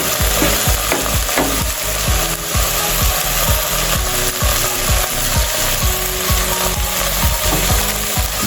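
Angus burger patties frying on an Aldi griddle, a loud continuous sizzle with a rhythmic series of spatula scrapes across the hot metal.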